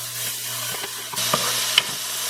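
Three cloves of pre-minced garlic sizzle steadily in a pan, a close, constant frying hiss with a few light clinks and scrapes of stirring and a low hum beneath, no voices.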